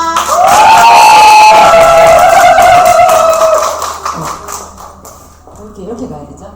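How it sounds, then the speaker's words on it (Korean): An audience at a business lecture cheers and applauds as a speaker enters, a loud crowd roar with a rising whoop that tapers off into scattered clapping and murmuring voices. "4주간의 특별 강의를 준비해주신 우리의 안시현 스폰서님을 큰 박수와 함께 모시겠습니다."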